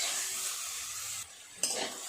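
Bitter gourd with spices gets a short stir in a pan, with soft scraping and a faint sizzle, then a brief pause and a light clink of utensil against the pan.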